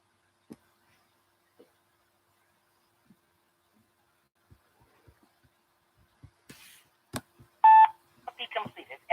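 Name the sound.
telephone dialing tones from a reverse dialer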